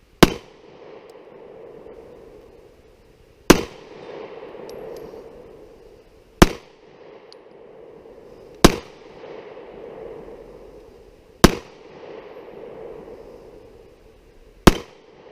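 Six sharp, loud Glock 43 9mm pistol shots fired at an outdoor range, spaced roughly two to three seconds apart, each with a short echoing tail and no talking.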